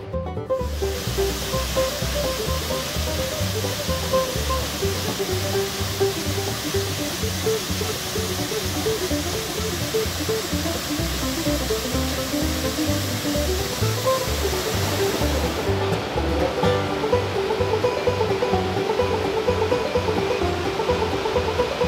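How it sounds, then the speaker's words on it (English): Lost Creek Falls, a Tennessee waterfall, roars steadily at its base as a dense, constant rush of falling water, loud and unbroken throughout. "let's make our way to the base of the waterfall"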